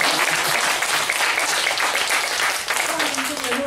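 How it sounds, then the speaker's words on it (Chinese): Audience applause after a talk on travel photography and poetry, dense sustained clapping from a large crowd filling the whole stretch at steady loudness, with a faint voice briefly emerging near the end. "先鼓掌再说"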